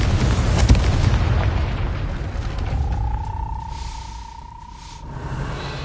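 Confringo fire spell blast in a Hogwarts wizarding video game: a single deep boom up front that rolls into a fading rumble, followed by a faint sustained tone, with no talk.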